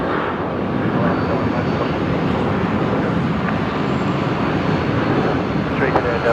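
An airliner lands at Brisbane Airport at night, its engines giving a loud, continuous broadband roar that holds steady throughout, near and unbroken, with no voices.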